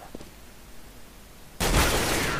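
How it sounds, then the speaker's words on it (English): Galil rifle fire in a shooter video game, a sudden sustained burst of loud automatic shots after a quiet moment of faint game ambience. "Gum's just trying to spray down in the smoke. He's got a Galil."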